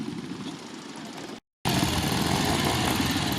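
A vintage pre-65 trials motorcycle engine runs at a steady, close idle with an even mid-pitched chug, broken by a short dropout of silence before it resumes louder.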